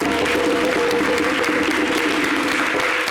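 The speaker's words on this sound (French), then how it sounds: "Est-ce qu'on vous applaudit, s'il vous plaît?" Sustained applause from a studio audience on a French local television show, steady dense clapping with no break, loud and close throughout.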